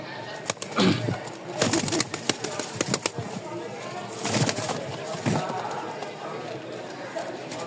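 Lotan pigeons, a crested male and female pair, flapping their wings in scattered bursts with soft cooing between, close by, while someone talks over them.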